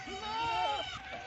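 A goat bleats on a goat farm in one sustained, wavering cry that stays fairly close and moderately loud, with faint background noise.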